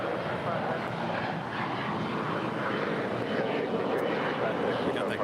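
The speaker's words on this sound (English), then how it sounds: "We got the Korean Air Cargo 777 heading to Seoul, flight 274, all lined up on 25 left." Korean Air Cargo Boeing 777 freighter lined up on runway 25 left at LAX, its jet engines giving a steady, loud broadband roar that holds throughout with no breaks.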